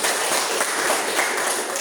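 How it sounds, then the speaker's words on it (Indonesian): Classroom applause from a group of pupils, a dense, steady wash of clapping lasting under two seconds with no pauses. "Tepuk tangan."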